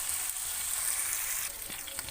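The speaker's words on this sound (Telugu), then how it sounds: "టమాటా ముక్కలు కూడా కొంచెం వేగిన తర్వాత కరివేపాకు వేసుకోవాలండి." Tomato pieces and curry leaves fry in a pan for cashew ravva upma, giving a steady, hissing sizzle at close range with no speech.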